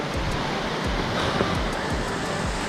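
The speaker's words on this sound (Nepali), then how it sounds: "यहाँ खोला चाहिँ अति नै बबाल देख्छ" A fast-flowing mountain river on the Jomsom to Lungbuk route in Nepal roars in a constant, dense broadband rush, close and loud, with no talk over it.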